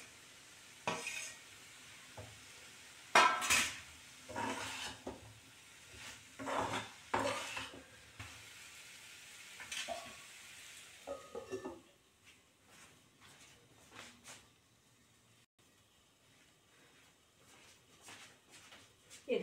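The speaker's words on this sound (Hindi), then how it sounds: "हम भुनी हुई अपनी सब्जी जो है ये जो मैंने भून के रखा वो इसमें ऐड कर देंगे" Roasted drumstick vegetable tipped into masala in a pan and stirred, with scraping and clanking in irregular bursts over a light sizzle for about twelve seconds, then fading to quieter occasional scrapes.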